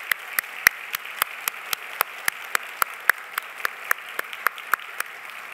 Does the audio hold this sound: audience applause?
yes